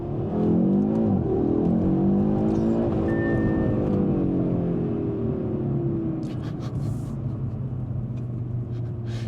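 A 2025 Audi RS 3 Sportback engine revs hard and loud up close, the pitch sweeping up and then easing down in a sustained throaty rumble with no talking.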